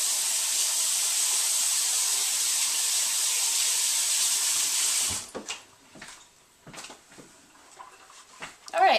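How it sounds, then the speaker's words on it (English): Tap water runs steadily as a spoon is rinsed under the faucet, a loud even hiss for about five seconds that cuts off, followed by quiet kitchen clatter and soft movements. "I'm just going to rinse off my spoon"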